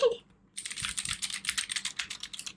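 Rapid typing on a Keychron mechanical keyboard: after a brief sound and a short pause, a quick, close run of crisp key clicks and clacks in an uneven rhythm.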